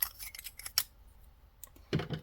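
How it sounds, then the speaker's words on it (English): Scissors snip through knitting yarn from a small knit kit at close range, a few quick crisp cuts followed by light handling rustle, with no talking. "I'm going to cut this just at the surface."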